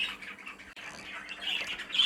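Pet budgerigars, a sky blue and a cobalt, squawk and chatter in close, harsh bursts that grow louder toward the end, with faint room noise underneath.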